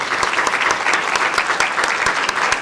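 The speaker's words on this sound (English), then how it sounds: "So a big round of applause for Alistair there." An audience claps warmly, a steady burst of many hands applauding together at close range for a few seconds.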